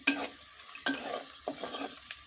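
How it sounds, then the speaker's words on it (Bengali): Onions and spices stirring and frying in a pan, with scraping strokes of a utensil over a soft, steady sizzle. "হালকা একটু পেঁয়াজ ভাজা ভাজা হয়েছে"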